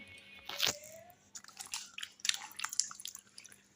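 Fresh tomatoes sloshed and rinsed in a bowl of water while making tomato chutney: close, light splashes and drips in short bursts, with soft knocks of the fruit, and no talking.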